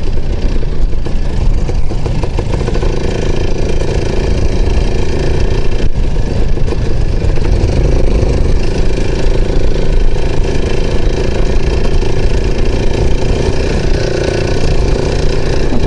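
An IZh Planeta motorcycle engine running while riding over uneven ground, a loud steady mid-pitched drone with a rough pulsing texture and slight shifts in revs, close and continuous, with no talk.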